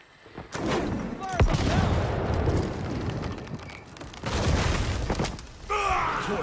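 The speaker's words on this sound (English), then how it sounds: "Throwing grenade." A thrown grenade explodes amid video-game gunfire: a deep boom lands early, followed by rolling blasts and scattered shots, with a voice talking over the din near the end.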